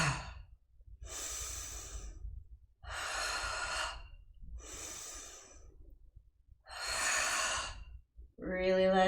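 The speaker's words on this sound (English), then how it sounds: "You can make this more of a forceful fire breath." Forceful, drawn-out breaths pushed hard through the mouth during a yoga class, five long exhalations with short silent gaps between them, close and loud with no talking.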